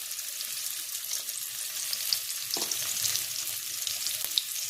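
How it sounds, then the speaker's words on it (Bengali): Potatoes fry in a pan with turmeric, a steady nearby sizzle and crackle broken by a soft stirring scrape partway through and a few faint clinks. "আমার আলুটাও ভাজা হয়ে গেছে। তার ভিতরে আমি একটু হলুদ দিয়ে দিলাম"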